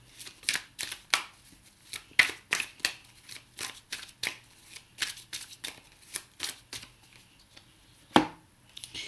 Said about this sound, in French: Je vais tirer une 4e carte.